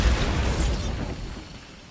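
A Bombarda spell detonates in Hogwarts Legacy, a loud booming blast with a rumbling low-end tail that fades over about two seconds.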